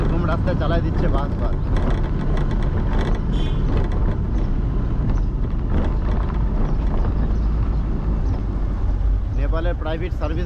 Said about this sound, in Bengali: এরকম রাস্তায় চালাই দিচ্ছে বাস।